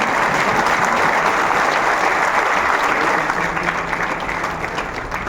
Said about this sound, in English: Round of applause for all of you guys.